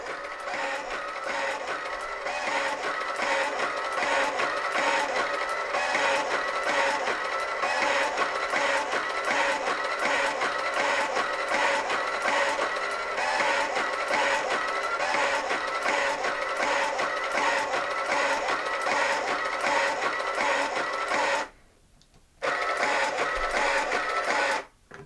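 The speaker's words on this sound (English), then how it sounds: "when we hit enter, it should print it off." A Psion II portable thermal printer runs a program listing, giving a steady, evenly pulsing mechanical buzz with a regular line-by-line rhythm, broken by a brief pause near the end.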